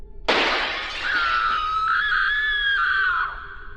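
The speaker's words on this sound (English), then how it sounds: "the sound of glass shattering followed by Daisy screaming" Glass shattering in a house, a sudden loud crash and spray of shards, followed immediately by a woman named Daisy screaming at the top of her lungs, a long high sustained shriek that fades out.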